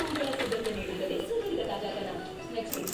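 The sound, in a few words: sewing machine stitching lining piece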